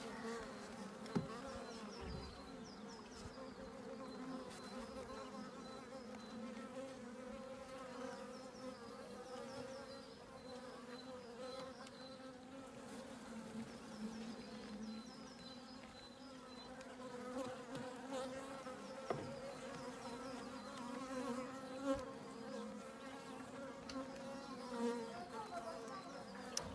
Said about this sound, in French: là elle s'énerve un petit peu, j'ai soufflé sur les abeilles sans faire exprès